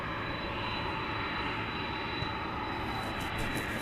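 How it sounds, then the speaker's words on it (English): A Boeing 757 jet pushes back from the gate at night at DFW Airport, its engines giving a steady, loud, broadband roar with a high whine that holds throughout, with no talking. "757 backing out here."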